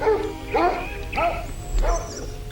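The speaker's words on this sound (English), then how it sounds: "from which a hideous barking could be heard" A dog barks from behind a castle wall, giving four harsh, yelping barks at an even pace with whimpering tones, fairly close and loud.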